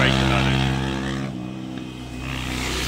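A motorbike roars past at speed on a road, its engine note loud and harmonic-rich, swelling, dipping briefly as it goes by, then rising again, with a voice talking over it.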